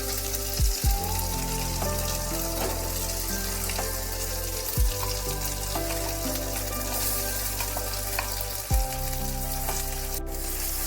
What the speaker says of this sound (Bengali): বেশ একটু ভালোভাবে গরম হয়ে গেলে বেটে রাখা কড়াইশুঁটিটা দিচ্ছি।